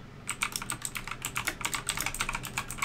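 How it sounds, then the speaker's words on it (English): Rapid, loud clacking of a computer keyboard during a 2v2 King of the Hill tournament broadcast, keystrokes arriving in quick irregular bursts close to the microphone with no talk over them. "Your keyboard is really loud."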